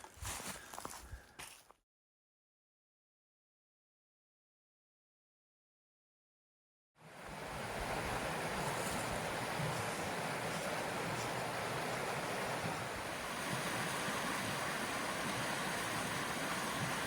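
North White Oak Creek flows in wooded hills, a steady, dense wash of rushing water filling the scene after a brief cut to silence, continuous and close with no talking.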